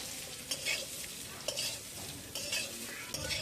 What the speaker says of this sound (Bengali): এগুলা দিয়ে একটু নেড়ে চেড়ে বেশ সুন্দর করে ভেজে নিচ্ছি।